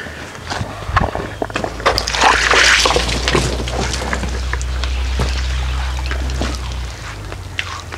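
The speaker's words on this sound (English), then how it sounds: "let me get some water on it." Water pours and splashes onto a freshly sawn walnut board at a Norwood HD 38 sawmill, with scattered knocks and footsteps over a low, steady engine hum.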